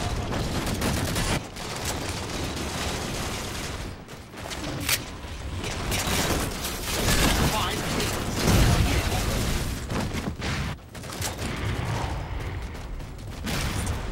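Rapid bursts of battle rifle fire in a Halo 4 multiplayer match, loud and repeated with brief pauses between volleys, mixed with game action noise and players talking over it.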